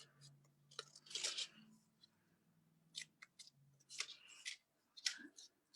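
Frame backing material is trimmed to size in a quiet room, a scattered series of short, crisp snips and cuts with brief pauses between them, close and fairly soft.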